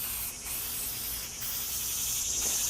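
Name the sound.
spraying stain from an aerosol can onto a door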